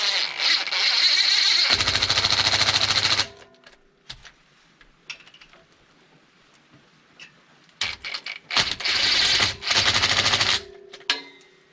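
A power impact gun on its lowest setting drives the bolts of a Metal Cloak differential cover on a 6G Bronco, two loud bursts of rapid hammering rattle a few seconds each, separated by a quiet pause with light clinks.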